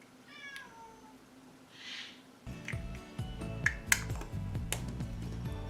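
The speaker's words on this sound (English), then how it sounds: "you get to hear my cat meow outside the door" A cat meows a few times outside a door, somewhat muffled and distant, followed by clicking and tapping sounds close by.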